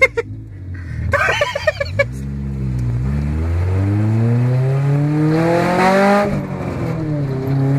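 A 1999 Honda Civic with an open header exhaust revs and accelerates nearby, its engine note rising steadily in pitch over several seconds, loud and continuous after a short burst at the start.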